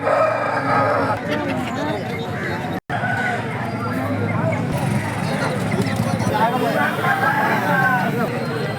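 Roosters crow repeatedly amid the clucking and crowd chatter of a busy weekly chicken market outside the Nangavalli bus stand, with steady background noise throughout.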